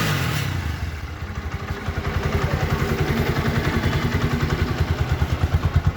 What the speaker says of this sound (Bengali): এবার আপনাদের একটু বাইকের সাউন্ডটা একটু দেখাই দিই।